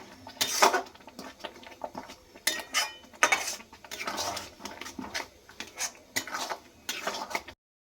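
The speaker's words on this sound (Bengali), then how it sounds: "সব কিছু দিয়ে নিয়ে নাড়াচাড়া করে নেব" Drumstick leaves with turmeric and chili powder being stirred in a metal pan, giving repeated close scraping and clinking strokes in uneven bursts, fairly quiet and without speech.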